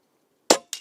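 Two close, sharp gunshots from an AR15 rifle fitted with a Buck Rail P-Rod conversion kit, the second following a quarter second after the first, each with a short decaying tail.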